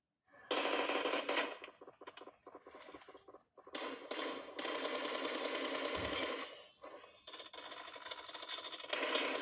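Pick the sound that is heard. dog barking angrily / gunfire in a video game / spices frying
gunfire in a video game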